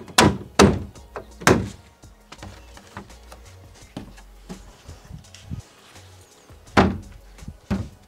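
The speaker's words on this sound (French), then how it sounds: "On va remettre ça sur la poubelle, voir si ça fonctionne quand même." A repaired plastic recycling bin lid, mended with a plastic stapling gun, is fitted back onto the bin: several loud hollow plastic thunks and knocks, a cluster at the start and more near the end, with quieter handling rattles between.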